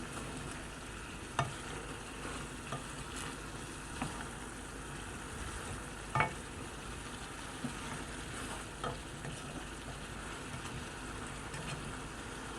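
A lotus root braise simmers in a pan with a steady soft bubbling sizzle, broken by a few occasional clicks and taps of a utensil stirring.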